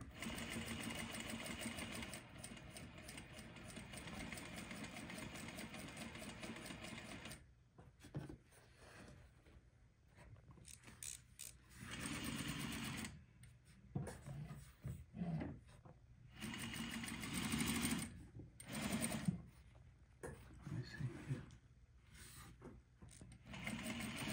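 A Juki DDL-8700 industrial sewing machine stitching after tension adjustments, running in loud, fast bursts broken by short pauses, close up with no talk.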